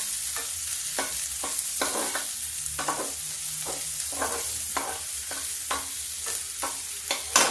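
Onions frying on low heat in a pan with green chilies, a steady soft sizzle broken by repeated scraping stirs of a spoon at an irregular rhythm, close and fairly quiet, with no talk.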